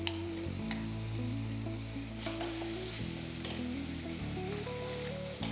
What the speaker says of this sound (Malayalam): അരപ്പ് നന്നായിട്ട് മൂക്കണം, അതുവരെ വഴറ്റിയെടുക്കുക